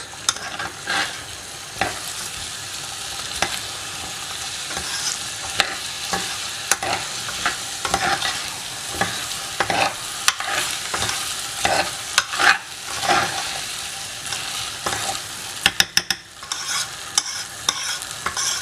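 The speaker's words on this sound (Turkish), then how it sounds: "önceden haşlanmış nohutlarımızı da pirincimizin üzerine ilave ediyoruz." Boiled chickpeas roasting with rice in a pot for chickpea pilaf, steady stirring scrapes and clacks over a continuous low sizzle, fairly close and loud.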